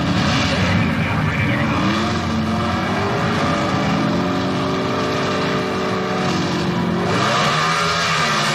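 Chevrolet and AMC Hornet drag racing cars at the 1977 NHRA Summernationals thunder off the line together, a loud, sustained roar of revving engines with rising pitch that dips and surges again near the end, with a commentator talking over it.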